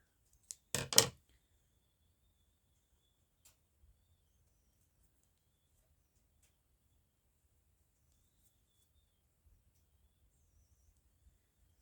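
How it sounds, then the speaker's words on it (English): A quick cluster of scissor snips trims loose strings from a piece of fabric for a junk journal. It lasts about a second and is followed by near silence with only faint small clicks. "I'm just going to cut those strings off, get them out of my way."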